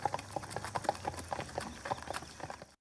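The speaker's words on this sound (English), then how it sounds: "What is more likely? Did these hoofbeats come from zebras or horses?" Horse hoofbeats clop in a quick uneven rhythm, a steady run of sharp knocks heard close and fairly loud for a few seconds with no talking.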